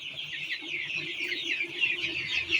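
Backyard chickens cluck and chatter continuously nearby, a busy layered clucking with no talking.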